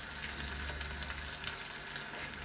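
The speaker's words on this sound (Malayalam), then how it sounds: "ഇനി നമുക്ക് ചെറിയ ഉള്ളി കീറിയത് ഇതിലേക്ക് ഇട്ട് കൊടുക്കാം." Sliced shallots fry in hot oil in a pan for pearl spot fish fry, a steady hissing sizzle with faint crackles throughout, close and even.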